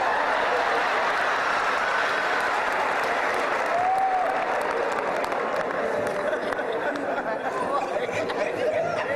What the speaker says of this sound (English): Ladies and gentlemen, let's clap it.